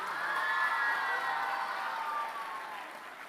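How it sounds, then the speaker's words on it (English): Audience applause at a conclave in India, a dense sustained wash of clapping from a large crowd, steady and loud before easing slightly toward the end. "Put your hands together."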